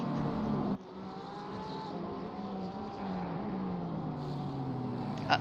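An Aston Martin GT race car engine in Assetto Corsa Competizione at Valencia drones steadily along a straight, its pitch climbing and sagging through the gears, with a brief cut near the start and a sharp click at the end.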